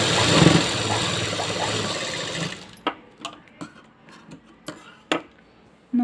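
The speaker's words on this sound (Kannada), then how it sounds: "ಈ ಥರ ರೆಡಿ ಮಾಡಿಕೊಂಡು ಇದ್ರ ಮೇಲೆ ಕೂಡ ಒಂದು ಟಾಪ್ ಸ್ಟಿಚ್ ಹಾಕ್ಕೋಬೇಕು" A sewing machine runs continuously as it top-stitches a blouse, then stops, leaving a series of short clicks and knocks.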